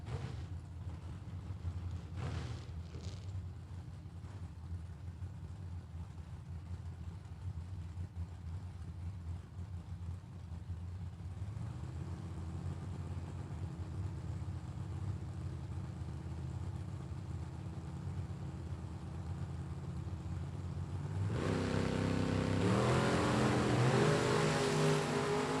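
Drag racing cars at a World Super Pro Challenge event: a low, steady idle rumble for about twenty seconds, then a loud, rising engine roar as they launch down the track, heard from a distance without talk.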